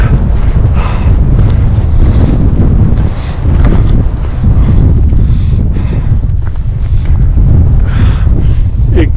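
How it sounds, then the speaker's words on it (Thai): Strong wind gusting across a microphone on a hiking trail beside a lake, a loud continuous low roar with buffeting surges throughout. "ลมฟิวฟิวเลยฮะ"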